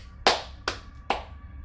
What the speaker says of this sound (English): Just a round of applause for Don Mancini here